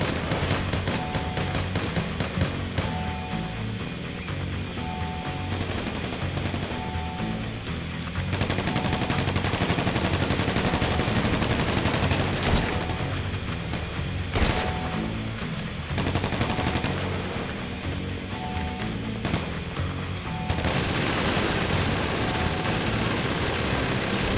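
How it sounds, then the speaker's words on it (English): A Gatling gun fires in the video game GTA 5, long bursts of rapid, dense gunfire filling the mix almost without pause, with brief gaps between loud sustained volleys. "Maybe it takes that long for the Gatling gun to actually run out."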